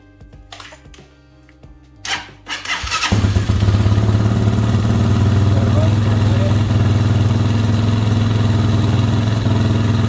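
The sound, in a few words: Amazon Hawk 250 Enduro motorcycle engine started and idling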